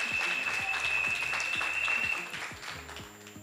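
Audience applause at a live French television game-show final, a steady wash of clapping with a sustained whine above it, fading somewhat toward the end; brief voices mix in.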